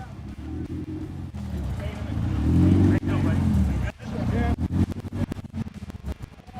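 A racing boat engine roars at close range, swelling and dropping in throaty surges with sharp cutoffs and a rapid sputtering burble near the end, during a Parker Dam 500 race day.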